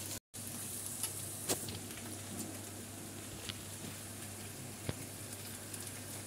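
Ginger garlic paste fries in hot oil for tomato rice, giving a soft, continuous sizzle with scattered sharp pops and crackles.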